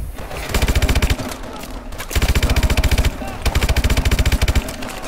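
Automatic weapon fire in the video game Call of Duty Advanced Warfare, three loud, rapid sustained bursts of machine-gun shots with short pauses between them, close and dominant, with a player's voice talking faintly underneath.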